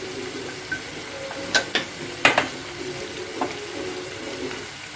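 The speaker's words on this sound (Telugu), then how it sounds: "ఇప్పుడు బాగా మిక్స్ చేసుకున్నాం" Spices being mixed into a frying potato curry: a low continuous sizzle broken by a few sharp taps and scrapes of a spoon against the pan, close and fairly quiet.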